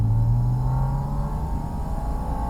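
Porsche Boxster Spyder RS engine idling low in the rev range, a steady near, loud drone with a low hum that eases slightly, running alone with no talk.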